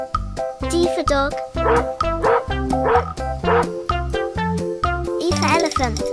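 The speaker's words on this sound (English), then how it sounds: "D for dog." A cartoon dog in an animated alphabet lesson gives a string of rhythmic barks and yips over a bouncy musical backing, each bark loud and close.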